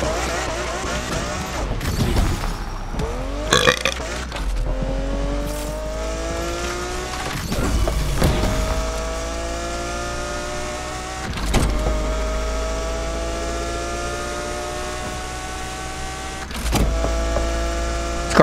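A McLaren F1 engine in the racing game Need for Speed Unbound revs and climbs through gears repeatedly, a loud steady whine with sharp shift breaks and brief bursts over about eighteen seconds.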